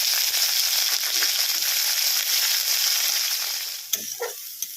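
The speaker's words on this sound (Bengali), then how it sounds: "এবার দিয়ে দিচ্ছি পেঁয়াজ কুচি।" Chopped onion with dried and green chillies frying in hot oil produces a dense, close sizzle that fades slightly toward the end, broken by a couple of brief utensil knocks.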